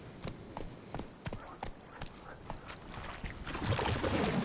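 Hooves of a horse galloping in The Witcher 3 beat out a quick, regular clip-clop of sharp, evenly spaced thuds, with a rising rush of wind and movement swelling toward the end.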